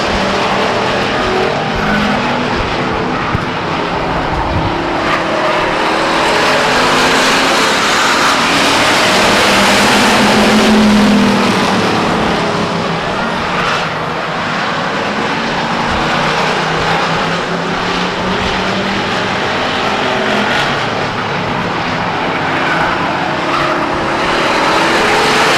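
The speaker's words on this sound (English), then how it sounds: "Here comes Tom Dibble underneath the 38 car of Sheila Wall" Race cars circling Stockton 99 Speedway, a sustained loud roar of engines rising and falling as cars pass, with some tire skidding and no talk.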